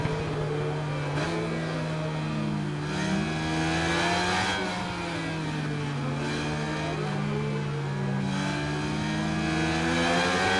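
A Suzuki GSX-R 600cc sport motorcycle in the racing game Ride 5, engine screaming at high revs with rising and falling pitch through throttle changes and gear shifts, loud and continuous with no voices.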